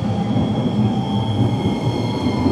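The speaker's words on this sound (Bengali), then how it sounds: "ওইদিকে ট্রাম চলে এসছে, এদিকে ট্রাম এখনও আসেনি।" A tram runs through snow-covered Sapporo, Japan, giving a loud, close, continuous rumble of wheels on rails with a faint steady hum over it.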